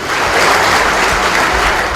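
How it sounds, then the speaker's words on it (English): Loud, steady applause from a large ceremony audience, a thick continuous wash of clapping that holds at full strength throughout without letting up. "Distinguished ladies and gentlemen, please a round of applause for"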